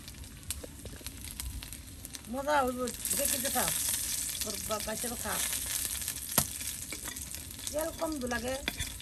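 Water hyacinth flower fritters fry in a small amount of oil, giving a steady sizzle with spatula stirring throughout, while someone talks over it in several short bursts.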